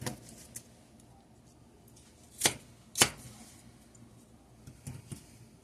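A knife cuts through peaches on a board for a buttery fruit crisp, giving two distinct sharp chops close together amid quieter scattered taps and faint kitchen background.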